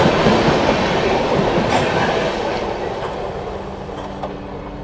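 The Shatabdi Express running between Rani Kamlapati and Delhi rumbles loudly along the rails, a dense roar with faint clickety-clack that gradually fades as it moves away.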